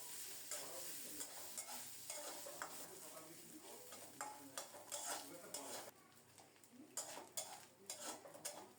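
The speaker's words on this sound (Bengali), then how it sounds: "অল্প করে সরিষার তেল দিয়ে কোরানো নারিকেল দিয়ে দিলাম 1 মুঠো। নারিকেলগুলোকে একটু লালচে করে ভেজে নেব।" A handful of grated coconut fries in mustard oil with a steady sizzle, broken by repeated scrape-and-clatter strokes of a stirring utensil against the pan; no one speaks.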